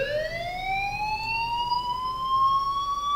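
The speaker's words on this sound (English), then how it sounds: "Hey, do you hear that fire alarm?" Fire alarm in the game Life Is Strange, a loud continuous electronic wail that sweeps slowly upward and holds steady, heard alone.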